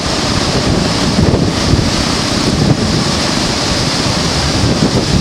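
Water roars steadily through the gates of a large old river bridge, a loud, continuous broadband rush with wind buffeting the microphone and no pauses.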